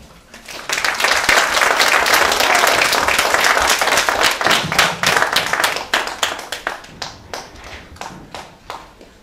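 A crowd at a Fête de la Musique speech event bursts into sustained applause that stays full and loud for several seconds, then thins into scattered, fading individual claps.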